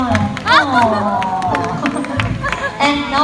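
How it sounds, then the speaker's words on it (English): Audience at a sea lion show clapping and cheering in a burst of applause, with crowd babble and a voice speaking over it. "Can you give another round of applause for Ira and Jira?"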